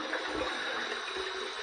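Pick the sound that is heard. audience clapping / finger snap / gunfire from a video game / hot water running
hot water running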